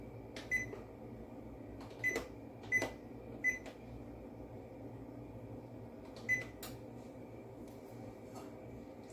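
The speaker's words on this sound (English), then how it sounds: "first let me turn on the oven" An oven's control panel gives a series of short, high electronic beeps, five in all and spaced unevenly, as it is switched on to 350 Fahrenheit to bake eggless banana bread, over a faint steady hum.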